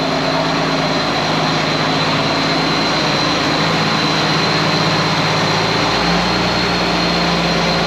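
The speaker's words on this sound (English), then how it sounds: "All tractors should sound like that." An old tractor engine runs after being restored and serviced, giving a loud, steady low-pitched drone with an even mechanical hum and no pauses, heard alone without talk.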